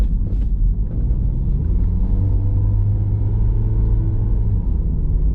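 Car engine labouring steadily up a steep hillside road, a loud continuous low rumble with sustained engine drone close by throughout.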